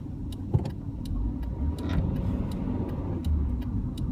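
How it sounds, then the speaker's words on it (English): A 2000 Honda Civic's engine hums steadily from inside the cabin while driving, with a low road rumble and light ticking in the background, no one speaking. "Very nice throaty engine note, too."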